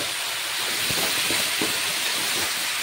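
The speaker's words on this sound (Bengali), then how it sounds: "এবার লাউগুলো ছেড়ে দেব।" Bottle gourd pieces dropped into hot oil with fried onions give a steady, close hiss of sizzling, with a few soft clatters as the gourd lands and settles.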